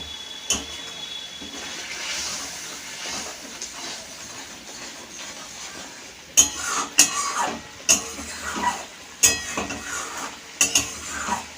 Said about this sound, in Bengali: মশলাটা আমার প্রায় কষানোই হয়ে গেছে দেখো মশলাটা তেল ছেড়ে আসছে